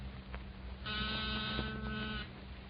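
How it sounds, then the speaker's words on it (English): A small battery-powered door buzzer sounds in a steady, tonal electric buzz lasting over a second, close by, over a low background hum in an old radio drama scene. "That's nothing but a small buzzer and battery set. An ordinary door buzzer."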